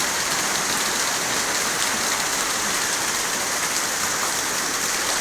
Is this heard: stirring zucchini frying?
no